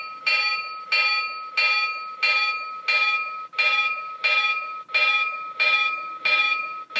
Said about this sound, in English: Here's the bell sounds.